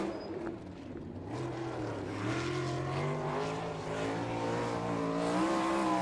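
A non-wing 305 econo sprint car racing a lap on a dirt oval, its engine a loud, steady, rising drone with shifting pitch as it works around the track, sustained throughout.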